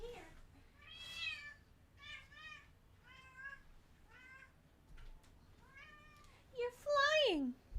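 A cat meows repeatedly at close range, a string of rising and falling calls ending in a louder, drawn-out meow, with no talk over it.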